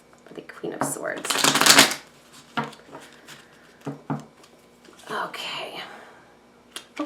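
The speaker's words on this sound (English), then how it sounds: "Do one more shuffle for the Queen of Swords." Tarot cards are shuffled in a crisp riffle up close, followed by lighter taps and slides of cards, with soft whispery talk between them.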